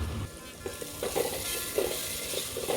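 Turmeric, coriander powder and cumin masala frying in hot oil for a homemade veg dalcha, a steady close sizzle with soft stirring scrapes.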